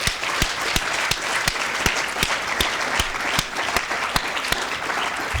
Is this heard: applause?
yes